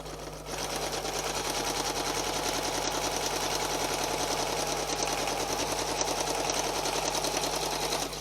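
A sewing machine runs steadily, stitching decorative stitches in a circle on fabric, a dense, continuous mechanical chatter that holds at an even loudness for about eight seconds, close by and with no talking.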